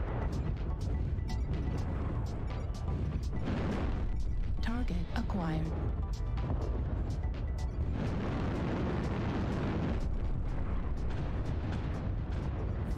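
Artillery blasts boom repeatedly in MechWarrior Online, dense rumbling impacts and sharp cracks layered over steady mech noise, with a voice speaking partway through.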